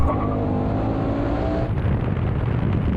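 A Ford Mustang V8 roars steadily at close range in a drag race, its pitch holding high before dropping into a rougher, lower rumble partway through.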